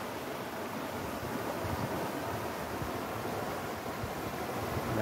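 A small stream swollen with winter rain rushes past in a steady, broad wash of water noise, constant and fairly loud, with no talking.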